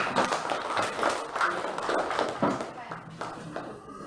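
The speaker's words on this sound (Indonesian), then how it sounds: "Tepuk tangan." A short burst of clapping from a group of students in a classroom, scattered hand claps with voices murmuring underneath.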